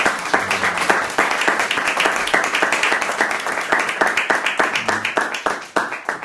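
An audience applauds at a Spanish-language talk on language and the Hispanic community, dense rhythmic clapping that stays loud and steady from start to finish, close and full.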